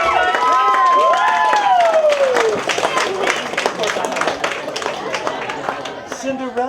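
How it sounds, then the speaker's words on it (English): Wedding guests clap and cheer loudly together, a dense crowd roar with whoops rising over steady applause that gradually thins out near the end. "Round of applause for Desi's beautiful self."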